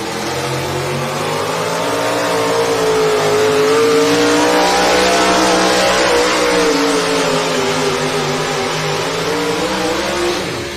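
A Chevrolet pulling truck roars at full throttle on the track at a tractor pull in Rock Valley, Iowa. The loud, close engine sound rises and falls in pitch and holds without a break for about ten seconds.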